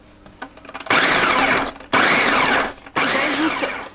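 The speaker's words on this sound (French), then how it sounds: "On va commencer à mixer un petit peu tout ça pour faire un peu de place." A food processor blends chopped broccoli, onion and chickpeas in three loud, whirring bursts of about a second each, separated by short pauses, with no talking.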